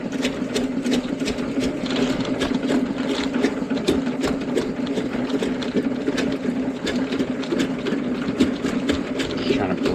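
A sewer drain cleaning machine runs in a main line during preventative maintenance, a loud continuous motor drone with a fast, regular clattering pulse from the spinning cable, steady throughout, with faint talk underneath.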